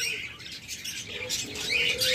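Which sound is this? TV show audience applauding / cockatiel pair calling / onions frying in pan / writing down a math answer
cockatiel pair calling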